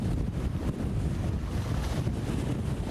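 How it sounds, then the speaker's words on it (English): Strong wind and surging waves on Lavaca Bay as Hurricane Harvey nears, with water piling up over a seawall; a loud, continuous roar of gusts buffets the microphone while water churns steadily throughout. "get a sense of these waves now just coming over, and the seawall's just about been covered up"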